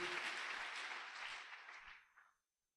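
A church congregation applauds, a dense burst of many hands clapping that holds steady and then fades out to silence within about two seconds.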